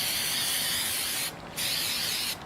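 An aerosol spray can hisses a product onto Hella car horns laid out on cardboard in a driveway, two close continuous bursts with a brief pause between them.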